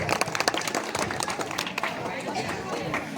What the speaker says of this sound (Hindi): एक बार जोरदार तालियां मास्टर मुजाहिद आलम साहब की।